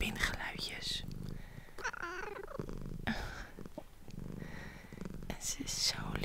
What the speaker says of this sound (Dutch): En ze spint nu puur omdat ik aan het fluisteren ben.